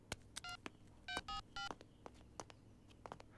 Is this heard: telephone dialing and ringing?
yes